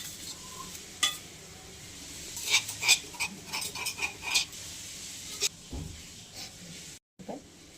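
Coriander and garlic being stirred into a pan of cluster bean curry, with a spoon scraping and clinking against the pot in short irregular bursts over a steady soft sizzle.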